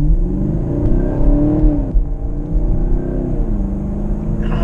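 A Chevrolet Camaro SS 50th Anniversary V8 engine revs and rumbles up close, rising and falling in pitch a few times over a deep, steady throb.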